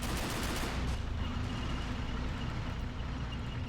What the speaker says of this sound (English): We're shelling the tanks up on the hill